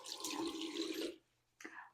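Tap water runs into a sink as hands are washed, a close splashing gush that stops briefly and then resumes with a short burst.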